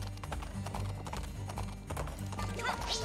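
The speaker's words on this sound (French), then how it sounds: "je vais devoir les poursuivre à cheval" Rapid, even clip-clop of galloping horse hooves from the Princess Peach Showtime video game, driving steadily through three seconds over game music, with a brief whinny near the end.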